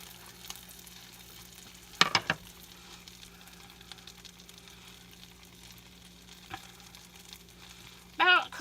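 A chicken and bacon tortilla wrap frying in a pan gives a soft steady sizzle, broken by a few brief clatters and bumps.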